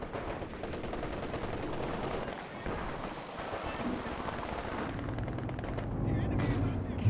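Machine gun fire from a Company of Heroes 2 match plays as a quiet, continuous crackle of rapid bursts, mixed with other battle noise and running steadily throughout.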